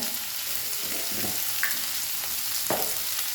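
Capsicum with onion and green chilli frying in a pan gives a soft, continuous sizzle with occasional scraping stirs, fairly quiet and without speech.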